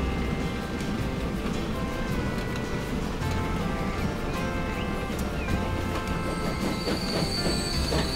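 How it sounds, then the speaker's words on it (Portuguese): A cargo train hauling food pulls in within the simulation game Transport Fever, its wheels squealing and rumbling steadily along the rails, loud and continuous, with a faint high screech building toward the end. "Lá vem o trem."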